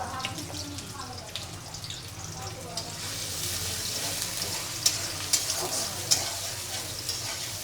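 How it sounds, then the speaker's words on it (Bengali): Pieces of fish fry in a pan of oil with a steady, fairly loud sizzle, broken by occasional sharp clicks and scrapes from stirring. Faint voices sit beneath the frying. "মাছগুলো সুন্দর করে ভেজে রাখছি"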